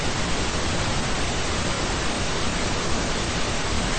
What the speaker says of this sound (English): Pink noise sounds like this.